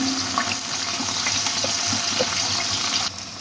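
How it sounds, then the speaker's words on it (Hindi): Sliced onions go into hot oil in a pressure cooker for beef biryani, giving a steady loud sizzle with small crackles throughout, with no talk. "तेल अच्छे से गर्म हो चुका है, अब हम इसके अंदर डाल देंगे प्याज।"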